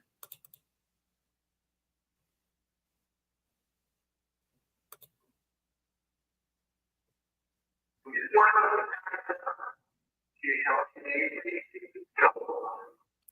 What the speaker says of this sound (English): So, Joe, I do hear that echo that you're talking about. It's a strong echo